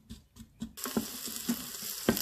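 Onions sizzle in oil, crackling steadily in a pan, with intermittent scraping stirs and clinks of a utensil; no talking.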